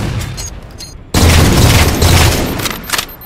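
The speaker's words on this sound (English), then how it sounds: "I'll use my DMR, I'll make it fair." DMR rifle fire in Halo 4 on the Sanctuary map, a sudden loud burst of booming shots that starts after a second of quieter game sound and continues as a dense barrage, no talk.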